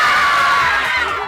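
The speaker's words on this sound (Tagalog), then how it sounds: "Pagdating pa lang ng palengke, ang mga tao sigawan na." A dense crowd at a Tagaytay market shouts and screams all at once, a loud, close, sustained roar of many excited voices.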